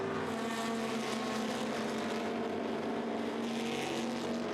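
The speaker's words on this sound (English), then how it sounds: "Past the pits they go," Historic sports racing cars from the FIA Masters series racing past the pits, with a sustained, loud engine roar that swells and carries on as the pack goes by.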